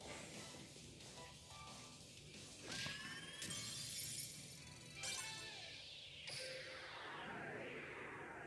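Magic card shattering effect in a Yu-Gi-Oh video game, quiet glassy breaking bursts with sweeping whooshes, several shimmering crashes spread over a few seconds, faint in the mix.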